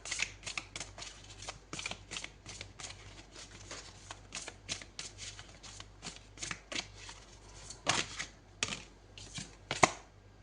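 Tarot cards are shuffled and flicked in a rapid, irregular series of crisp papery riffles and snaps, close and fairly quiet, with a few sharper slaps near the end.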